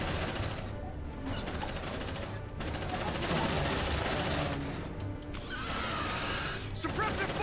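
Sustained machine gun fire in the video game Aliens: Dark Descent, a dense, continuous roar of rapid shots with brief gaps, loud and close, with voices talking over it.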